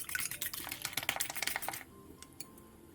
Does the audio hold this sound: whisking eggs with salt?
yes